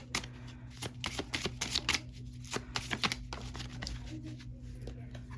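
Tarot cards are shuffled for a reading in quick riffling bursts, close and crisp, with brief pauses between rounds.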